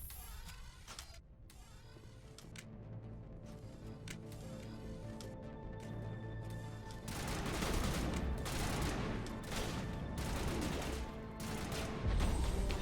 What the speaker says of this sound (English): Who just started shooting?